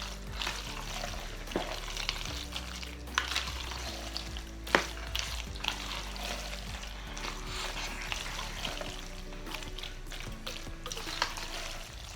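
Vegan mac and cheese made without cashews, carrots or potatoes gets stirred in a pot, with soft scraping and wet mixing sounds over a faint sizzle, broken by a few sharp utensil knocks against the pan.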